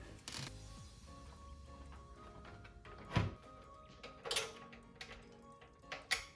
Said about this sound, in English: So I'm going to screw that guy in right away.